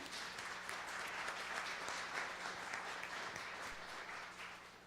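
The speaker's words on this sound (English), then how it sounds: "I would like to give them a round of applause" An audience applauds the event organisers at an incubator gathering, a steady, dense wash of clapping that holds at even strength for several seconds and eases slightly at the end.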